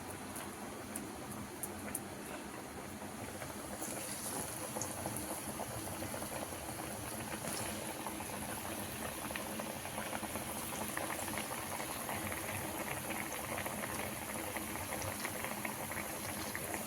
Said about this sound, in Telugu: టూ సైడ్స్ బాగా గోల్డెన్ బ్రౌన్గా ఫ్రై చేసుకోవాలండి.